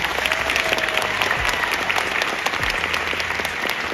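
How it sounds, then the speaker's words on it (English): Lively crowd applause at an award show in Symphony Hall for Community Action Lehigh Valley, a loud dense clatter of many hands with scattered sharper claps standing out, continuing steadily without speech. "Let's give them a round of applause."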